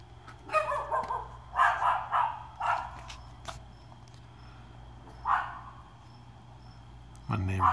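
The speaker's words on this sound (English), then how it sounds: "My neighbor's dogs." A neighbor's dogs barking in several short clustered bursts, moderately distant over a low background hum, with a pause before a final bark.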